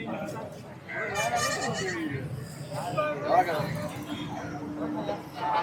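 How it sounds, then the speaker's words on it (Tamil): Young goats and lambs bleat at Kunnathur weekly livestock market in Tamil Nadu, several wavering cries rising through the crowd as people talk nearby. "வெள்ளாட்டுக்குட்டி, அதெல்லாம் செம்மறி ஆட்டுக்குட்டி."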